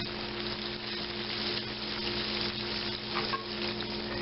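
Food being spread and stirred across the bottom of a frying pan, a steady close sizzle with soft scraping and occasional utensil ticks, without speech.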